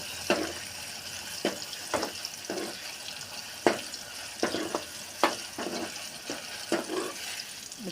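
Ridge gourd seeds fry in oil for a chutney, giving irregular sharp pops and crackles, close by, over a faint, steady sizzle.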